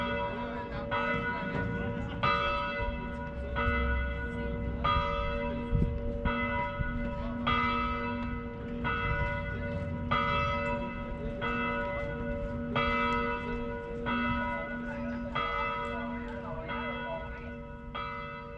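Church bells ring in a steady, repeating peal along the Saint Lawrence river shore in Quebec, the tolls strong and continuous over a low background hum.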